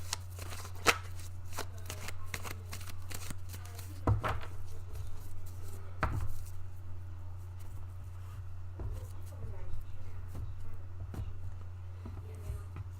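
Tarot cards are shuffled by hand at close range, a long run of rapid riffling and soft slaps with a few sharper taps of the deck, a faint voice briefly audible underneath.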